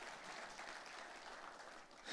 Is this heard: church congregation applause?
yes